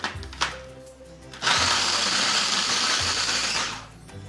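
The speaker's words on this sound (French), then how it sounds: "on lui donne, hop, 3 gousses d'ail, 65 g de noix, 50 g de parmesan. Et on va déjà mixer ça." Garlic cloves, walnuts and parmesan whirring in an electric blender for beet pesto: a few clunks as the ingredients drop in, then a loud, steady high-pitched buzz for about two seconds before it winds down.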